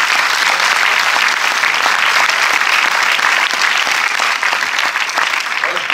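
Sustained audience applause, dense and even, many hands clapping at once without a break.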